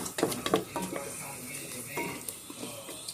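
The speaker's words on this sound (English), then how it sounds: "Add that right on in the pot and saute my onions and celery." Onions and celery sautéing in a pot for stuffing, with a spoon scraping and clanking against the pot in a few quick stirs over a low sizzle, close and moderately loud, no talking.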